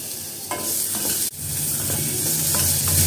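Turkey berries and curry leaves sautéing in a pan, a steady close sizzle with scraping stirs through the whole stretch and a brief dip midway; no talking.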